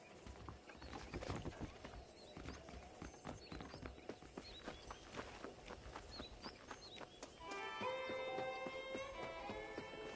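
Horse hooves clip-clop steadily at a walking pace while riding in the video game Red Dead Redemption, a quiet rhythmic patter that carries on under faint background ambience and music.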